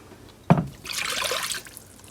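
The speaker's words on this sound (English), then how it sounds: "we're going to add 1 cup of water" A cup of water poured into a cornstarch mixture in a pot, a soft knock followed by a steady splashing trickle lasting about a second before it stops, close and moderate, with no voices.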